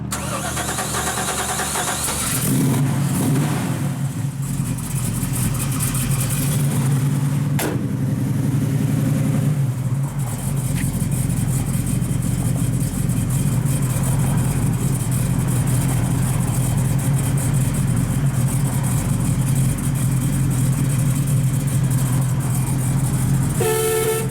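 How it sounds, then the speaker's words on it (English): A big-block V8 engine in a 1969 Chevrolet Camaro SS cranks and fires up, then settles into a loud, rumbling idle with occasional throttle blips through a 3-inch Flowmaster exhaust, close by and with no talking. "We'll fire this thing up."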